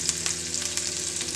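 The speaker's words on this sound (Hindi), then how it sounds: "उसके लिए हम लोगों ने तेल गरम किया है, इसमें हम लोग डालेंगे थोड़ा जिंजर" Ginger hits hot oil for tempering while cooking Delhi street-style chhole, a loud, close, steady sizzle with crackling pops throughout and no voices.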